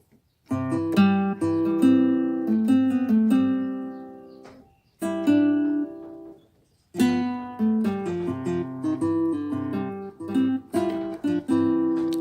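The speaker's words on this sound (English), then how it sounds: "hard flamenco, sorry, and that guitar sounds like this." A Yamaha keyboard playing an acoustic flamenco guitar voice: strummed chords and plucked phrases with brief pauses between passages, clear and close.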